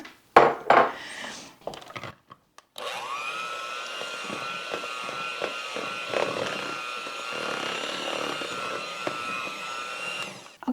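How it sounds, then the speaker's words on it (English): An electric mixer whirs steadily while beating raspberry zinger poke cake batter, starting after some brief clatter and then holding a constant motor drone with small fluctuations as it churns. "I'm going to mix this up until it becomes smooth, about 2 to 3 minutes"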